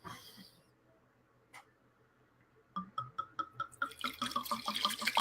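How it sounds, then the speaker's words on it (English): Wine poured into a glass: a quiet lull with a brief tap, then a close, rhythmic series of glugging pulses building into a denser, brighter splash of liquid. "I'm pouring myself a glass of wine."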